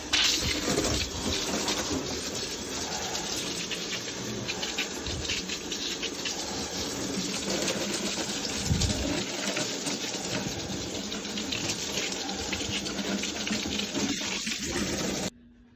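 Water from a hose sprays steadily over a freshly cleaned wire wheel on a car, a continuous close hiss and splash that runs unbroken before cutting off at the end.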